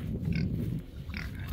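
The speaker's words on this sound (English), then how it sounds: "These are the male pigs," Male stud pigs on a farm, kept for mating, grunting in low, rumbling bursts close by, with a couple of higher snorting squeals over a steady barn background and no speech.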